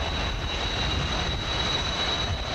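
An AHA-26 aircraft roars with a loud, continuous engine drone and a thin steady whine riding on top, close and unbroken for the whole stretch.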